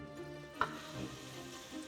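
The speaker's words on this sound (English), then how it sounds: "I'm going to actually fry off my meat to seal it and make it a little bit golden" Meat sizzles and fries in butter in a pan for a period stew, a soft steady crackle with one brief clink of a utensil partway through and no one talking.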